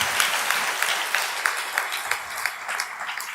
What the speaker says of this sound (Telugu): ఇప్పుడు కొట్టరు చప్పట్లో